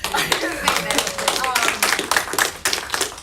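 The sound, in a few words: audience clapping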